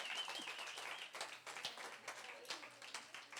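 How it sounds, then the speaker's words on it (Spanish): A church congregation clapping for God during a service, a moderate wash of scattered hand claps with voices calling out over it. "Dale un fuerte aplauso a Dios."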